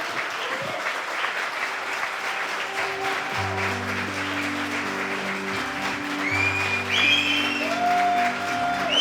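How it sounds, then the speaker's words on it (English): Applause for a toast speaker at a celebration, sustained clapping from a gathered crowd that swells slightly toward the end, with music tones playing beneath it. "give me a round of applause as well"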